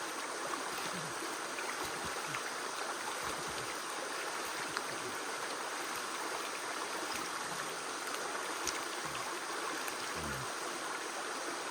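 Steady broadband rush of flowing stream water in a jungle, constant and moderately distant, with a few faint low gurgles.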